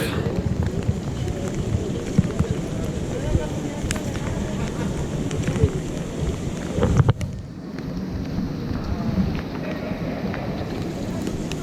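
Heavy rain in a Prague city street, a dense, steady close-up wash of rainfall and splashing, with a brief sharp knock partway through and the downpour continuing afterward.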